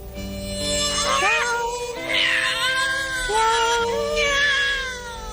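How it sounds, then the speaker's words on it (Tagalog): A cat meows several times in a row, drawn-out and wavering, loud and close. "Meow."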